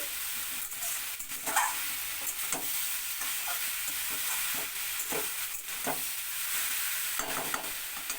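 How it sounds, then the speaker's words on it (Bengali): Radish, a tomato and green chilies stir-fry in a frying pan, with a soft steady sizzle under frequent close scrapes and taps of a spatula, sometimes in quick bursts. "একটা টমেটো আর দুটো কাঁচা লঙ্কাকে চিড়ে নিয়েছি সেটাও এর মধ্যে দিয়ে দিচ্ছি ভালো করে নেড়ে ছেড়ে দিচ্ছি"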